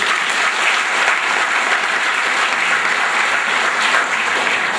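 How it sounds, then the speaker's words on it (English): Loud, sustained clapping from a large audience welcoming a guest from England at a spiritual discourse, a thick unbroken wash of applause filling the whole stretch. "give a big clap to her"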